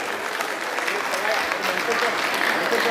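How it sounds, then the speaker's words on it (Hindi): A crowd at a community honour ceremony claps steadily for a few seconds, a broad wash of hand claps with some voices talking over it. "सभी से निवेदन एक बार जोरदार तालियों से रमेश सोनार्थी का भी उत्साहवर्धन करें।"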